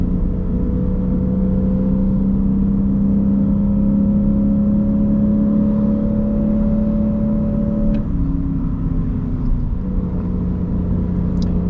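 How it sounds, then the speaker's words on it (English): A Lexus IS500 V8 engine drones loudly inside the cabin during a drive, a steady low hum with rising tones that shift pitch around a downshift, heard close and continuous with no talking. "you can console yourself with a nice downshift"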